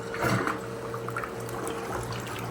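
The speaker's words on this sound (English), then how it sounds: "Flush the toilet." A household toilet flushes after being plunged, a close rushing swirl of water with gurgles that runs steadily through the moment.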